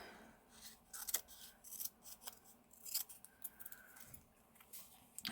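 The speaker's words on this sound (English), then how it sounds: "I'm going to cut each individual line and see how that looks." Scissors snip close up through individual lines of paper in a quiet room, a series of crisp, irregular cuts and small rustles, faint overall, with no speech.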